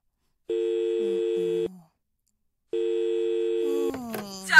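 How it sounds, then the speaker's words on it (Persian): A telephone call being placed: two long steady dial tones broken by a short gap, then a quick burst of dialing and connection noise at the end, clear and close in a quiet room. "بذار یه زنگ به جمشید بزنم"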